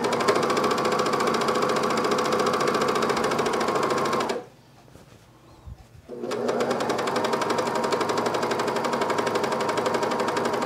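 A coverstitch machine hums steadily while sewing a camisole, pausing for about two seconds before the motor resumes at the same even pace.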